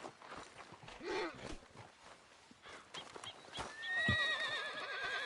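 A horse in Red Dead Redemption 2 gives a loud, wavering whinny near the end, after steady hoof clops and movement. A voice speaks briefly early on.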